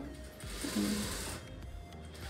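A sewing machine stitches a Madhubala-style dress in a boutique, a quiet steady mechanical whir with faint rhythmic ticking, fairly soft and continuous throughout.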